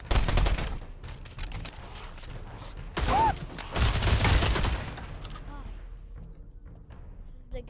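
Gunfire with heavy recoil in the VR shooter Pavlov during a zombie mode, heard as loud bursts near the start and middle amid mechanical clatter.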